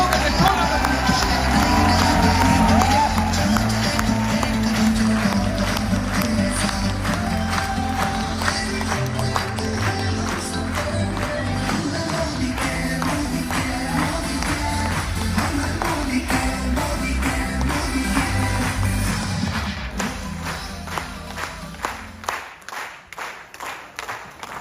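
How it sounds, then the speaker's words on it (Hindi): A standing audience at a large business meeting in Varanasi claps loudly and continuously, with crowd cheering and voices mixed in, before the applause fades near the end. "एक बार खड़े होकर के जोरदार तालियों से थैंक यू दीजिए"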